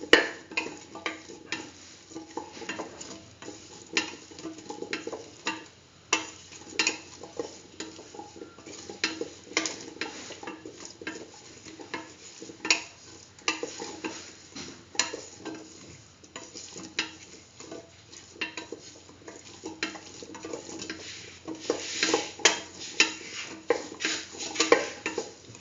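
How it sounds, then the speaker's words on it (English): Spoon stirring spices into a split chickpea and chayote stew in a pot, repeated scraping and clinking strokes over a soft sizzle, close and irregular throughout, with no talk. "Put in 1 spoon of mixture spices. Mix. Thoroughly mix."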